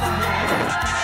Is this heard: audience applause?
yes